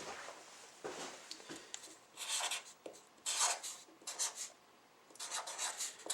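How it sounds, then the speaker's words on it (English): A pen scratches out a handwritten measurement in short, quiet bursts of rubbing strokes separated by brief pauses, close and faint, with no talking. "We're going to write this down."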